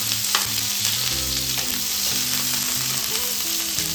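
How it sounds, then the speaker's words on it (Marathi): Paneer cubes shallow frying in hot oil over a medium flame give a dense, steady, loud sizzle, close up with no voices. "आता आपल्याला हे पनीर टाकून घ्यायचं आहे. हे आपल्याला शॅलो फ्राय करायचं आहे."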